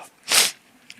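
A single sharp sneeze bursts out close by during an evening gaming chat, brief and breathy, with quiet room noise before and after.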